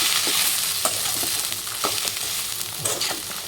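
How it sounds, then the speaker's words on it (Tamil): Cumin and grated coconut sauté in a hot pan, a steady close sizzle broken by scraping stirs of a spoon at irregular intervals, with no voices. "ஜீரகத்தையும் போட்டு நல்லா ஒரு வணக்கிக்கோங்க."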